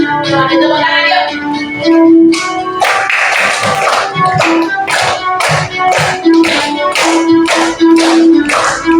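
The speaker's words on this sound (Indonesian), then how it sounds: "Selamat tepuk tangan yuk." A group in an Indonesian primary school classroom claps hands in a steady beat along with singing, the claps loud and regular through most of the stretch.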